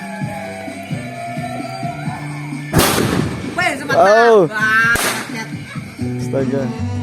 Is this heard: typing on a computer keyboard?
no